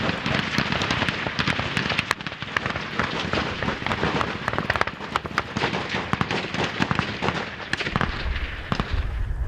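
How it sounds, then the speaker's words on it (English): Dense gunfire during a 2013 ambush in South Sudan, a loud, continuous crackle of rapid shots in close succession from near and farther positions, filling the whole stretch without a break. "An attempt at a counterattack faltered under a wall of gunfire."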